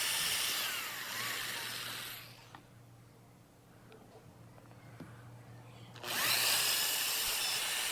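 A power drill bores holes in a Flying V guitar body for clamps, two loud whirring bursts with a quieter pause of faint scraping and clicks between them.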